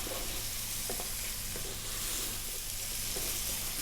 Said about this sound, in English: Let's get our cooking prawns or cooking shrimps in there